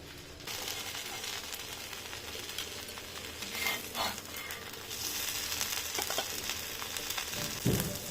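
Vegetables and spices fry in a home cooking pan (kadai), a steady broadband sizzle with occasional stirring scrapes and clinks, continuous and close throughout with no talk.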